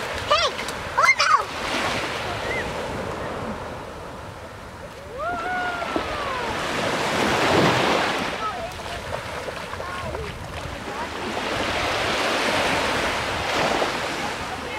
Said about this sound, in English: also likes crashing waves